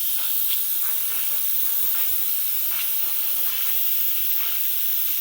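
Hot steam from a venting Instant Pot 9-in-1 electric pressure cooker during pressure release while cooking beef caldereta, a steady loud broadband hiss holding throughout with faint rhythmic sputtering pulses.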